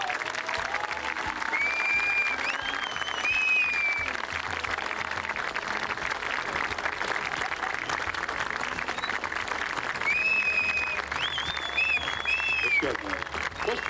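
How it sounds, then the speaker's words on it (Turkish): Sustained applause from an audience at an outdoor stand-up comedy show in Istanbul, steady clapping throughout with crowd noise and faint whistles or tones over it. "Zarif alkışlarınız için."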